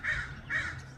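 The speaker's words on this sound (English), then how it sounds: "Let's see if we can find some crows." A crow caws twice in quick succession, a pair of harsh, moderately close calls within about a second, outdoors near trees.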